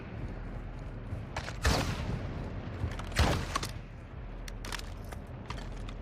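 Gunfire in Call of Duty: Modern Warfare 2 (2022) campaign, two loud bursts of rapid shots and a few sharper single cracks over a low background hum, with no speech.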